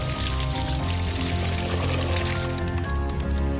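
Water is poured over a toy police monster truck to wash it, a steady continuous splash and trickle that stays close and loud for the whole stretch. Background music plays throughout.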